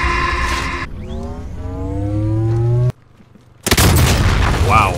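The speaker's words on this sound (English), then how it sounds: "Wow, I blew my damn self up." A player's own grenade goes off in the Warzone video game on Rebirth Island, a sudden loud blast cutting off engine-like game tones. Brief near silence follows, then a dense roaring burst of noise with voices in the background.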